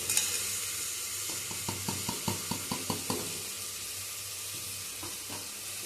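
Ground cumin, fennel, pepper, coriander powder, turmeric and salt are stirred in a hot cooking pan, a steady soft sizzle with a quick run of rhythmic scraping strokes, then a pause and a couple more.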